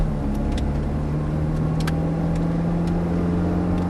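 A Ferrari F430 engine pulls steadily under throttle on the Thruxton circuit, a loud continuous drone with a rising tone as it accelerates, heard close and alone with no voices.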